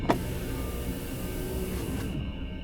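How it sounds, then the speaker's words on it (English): A car window rolls down, a steady electric motor whir lasting about two seconds over low engine rumble, starting with a small click and stopping abruptly. "He rolled down the window to get a better look."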